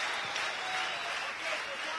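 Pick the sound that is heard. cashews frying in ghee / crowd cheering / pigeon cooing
crowd cheering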